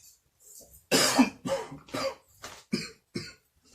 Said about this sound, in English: So why are you coughing?